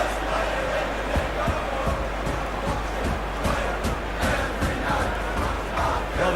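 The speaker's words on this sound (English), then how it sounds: "Well, the crowd clearly like what they just saw." Stadium crowd noise in a football video game featuring Manchester United, a steady broad roar of cheering spectators with scattered sharper bursts, loud and continuous throughout with no talk.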